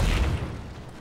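Low, rumbling booms of howitzer artillery fire in the Napoleon: Total War battle game, a dense fading roll of distant cannon thuds with no voices.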